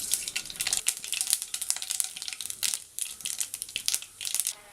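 Mustard seeds crackle and pop in hot coconut oil in a kadai, a dense run of sharp spluttering bursts close by and fairly loud, with no talking.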